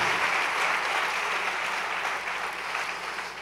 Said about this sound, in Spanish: Quiero que me ayuden a darles la bienvenida a todos con un fuerte aplauso.